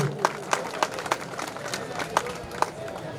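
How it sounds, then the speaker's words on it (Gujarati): Audience applause at a Gujarati religious community gathering, rhythmic clapping from a crowd with sharp regular hand claps standing out, fairly close and steady throughout the short stretch. "જોરદાર તાળીથી વધાવી લઈએ"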